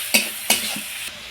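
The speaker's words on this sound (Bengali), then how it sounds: "আদা রসুন দিয়ে একটু আবার নেড়ে চেড়ে নেব।" Grated ginger and garlic stirred in a hot frying pan: two loud scraping strokes of the spatula over a continuous sizzle, then a softer scrape before the sound fades.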